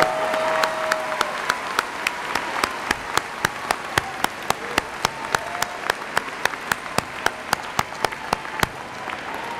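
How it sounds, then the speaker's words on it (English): A business school commencement audience applauds, with sharp individual claps standing out clearly above a softer wash of clapping throughout. "please join me in a round of applause to congratulate the student awards"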